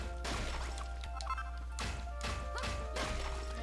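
Blocks are smashed apart in Dragon Quest Builders, with a series of blunt thuds and crunching crashes coming in uneven bursts over a steady low hum, each impact short and fairly close.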